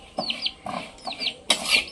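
A chicken clucks in four short bursts, close and fairly loud, each call rising to a sharper squawk at the end, with no voices.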